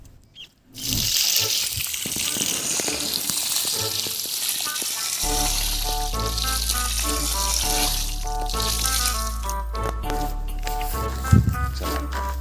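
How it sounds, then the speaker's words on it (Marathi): Water pours steadily from a bucket in a continuous rushing splash, with music playing over it for most of the time. "हे पाणी आपण याच्यात टाकून देणार आहोत"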